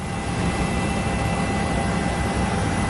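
Steady, loud aircraft drone of a helicopter patrolling over a flooded area, a continuous broadband engine roar filling the whole moment with no break or talk.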